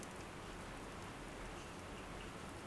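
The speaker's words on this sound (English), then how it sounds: "It's still raining, but the thunder and lightning have passed." Steady rain falls after a thunderstorm, a continuous, even hiss of drops with no thunder and no breaks.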